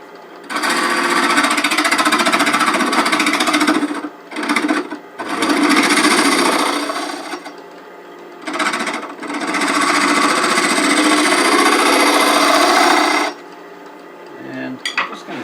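A wood lathe turns hard wood for a rook chess piece box, giving loud, harsh chattering bursts of tool-on-wood cutting, several seconds long and separated by brief pauses, with the machine's quieter hum between cuts and no talking.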